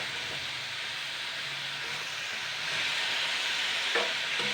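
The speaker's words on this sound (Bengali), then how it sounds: "5-6 মিনিট হয়ে গেছে সবজিটা ভাজছি।" Mixed winter vegetables fry in a pan with a steady, dense sizzle while being stirred, punctuated by a few soft scraping and clinking strokes, continuous and close with no voices.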